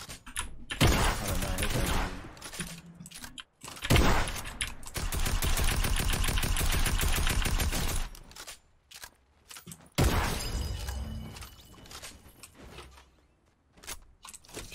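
Gunfire in Fortnite's John Wick mode comes in rapid bursts of automatic shots with sharp single cracks between pauses, loud and close, mixed with player chatter.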